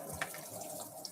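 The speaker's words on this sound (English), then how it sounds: "then you can rinse it off really easily" A blender part is rinsed under a running kitchen tap, giving a faint, steady hiss of flowing water for about a second.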